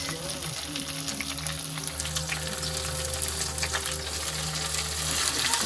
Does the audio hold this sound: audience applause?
no